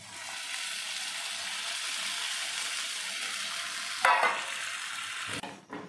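Potatoes cooking in a pan sizzle steadily at moderate level, then water is poured in with a sudden hissing splash and bubbling rush before the sound cuts off near the end.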